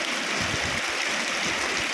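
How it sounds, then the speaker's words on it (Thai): Rainwater from the year's first rain rushes and splashes steadily in a continuous, fairly loud flowing hiss, with no voices present. "น้ำไหล"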